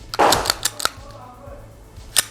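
Magazine release on a Taurus TH9 pistol: a burst of sharp metallic clicks and clacks close by, several quick snaps in the first second, then a pause and one final crisp click.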